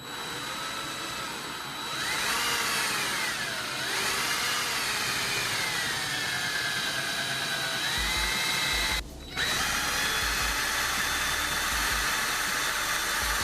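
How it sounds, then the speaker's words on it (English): Power drill pre-drilling a hole into a book, a loud whining motor that rises and falls in pitch as it bites, running almost continuously with a brief stop near the end. "in moving forward I'm also pre-drilling a hole into the approximate middle"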